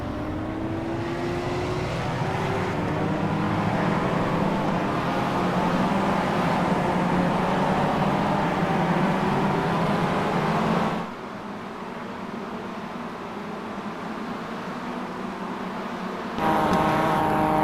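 Race cars in a sim racing game rolling in a pack behind a Porsche safety car at the Red Bull Ring before a six-lap roadster sprint, a steady layered engine drone that dips briefly near the end, then swells again.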